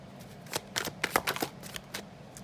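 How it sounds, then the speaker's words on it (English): Tarot cards riffled and shuffled by hand in a quick burst of crisp, fluttering bursts, close and fairly loud, with no talking over them. "I'm going to keep shuffling."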